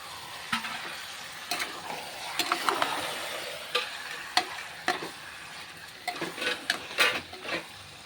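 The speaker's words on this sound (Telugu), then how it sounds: "ఇలా చికెన్ని బాగా ఫ్రై చేసుకోవాలి" Chicken fries in a pan for biryani, a constant sizzle broken by repeated sharp spatula scrapes and knocks against the pan, close and fairly loud, with no one talking.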